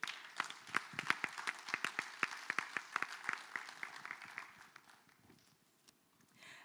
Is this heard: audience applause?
yes